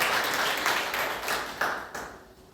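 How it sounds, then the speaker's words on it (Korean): A church congregation gives a short round of welcoming applause at a Sunday service, dense clapping that tapers off toward the end. "우리 박수로 환영해 주시면 감사합니다"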